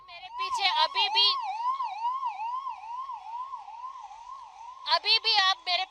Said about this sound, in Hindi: एक एम्बुलेंस अभी अंदर गई है